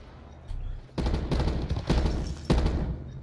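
Gunfire from bots in Call of Duty Black Ops 4, with several loud bursts of shots following a quieter start, crowding together near the listener.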